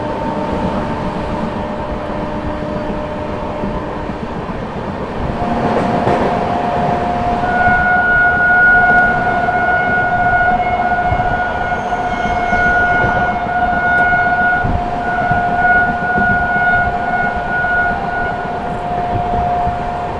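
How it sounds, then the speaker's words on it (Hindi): An Amrit Bharat train's rakes pass nearby, heard from aboard the Prayagraj–New Delhi Humsafar Express, with a steady loud rumble, a rising swell around midway and long sustained horn-like tones held for several seconds. "सामने कोई तो अमृत भारत के रैक जा रहे हैं भाई"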